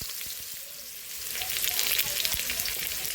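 Chopped vegetables for a raw mango sour dish go into a frying pan, setting off a hiss that swells into a louder, crackling sizzle with light stirring knocks.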